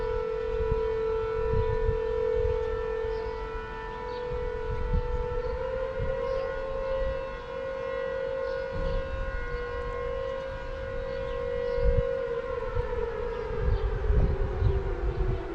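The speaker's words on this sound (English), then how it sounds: "It's the 12:30 Alcobaça siren, letting everyone know that it's lunchtime" A long, steady wail of the 12:30 lunchtime town siren in Alcobaça, Portugal, sounds from a distance, holding one pitch before slowly sliding lower near the end.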